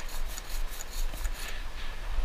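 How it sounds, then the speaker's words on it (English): A rubber brayer rolls block-printing ink across an inking slab, giving a continuous sticky rasping hiss in repeated back-and-forth strokes, close and fairly loud, with no talk. "I'm kind of using this area to distribute the ink on the brayer"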